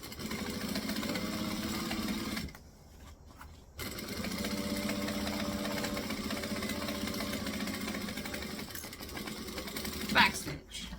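A sewing machine stitches a bag seam with a steady mechanical whirring hum, pausing briefly for a couple of seconds before running on again, close and continuous.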